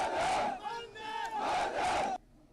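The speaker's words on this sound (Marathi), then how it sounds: "भारत माता की जयचा एकच जल्लोष झालेला आपण ऐकतो आहोत" A crowd of soldiers at Adampur Air Base raises loud, drawn-out chanted cries of "Bharat Mata ki Jai" in two surging waves that cut off sharply.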